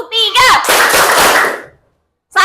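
A group of children claps their hands together in a classroom counting game, a dense burst of claps lasting about a second right after a woman's spoken cue, then silence before speech resumes.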